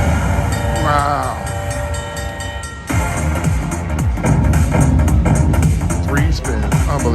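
A Railroad Riches slot machine plays a loud train sound effect with a rumbling, horn-like tone amid busy casino noise and background music, while someone talks excitedly over it.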